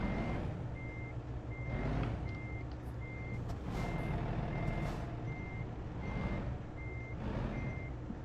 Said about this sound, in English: trying to back these trailers in like this is so difficult for me